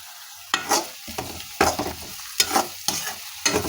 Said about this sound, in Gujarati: હવે આદુ મરચાં લસણને પણ ડુંગળીની સાથે સરસ સાંકળી લઈએ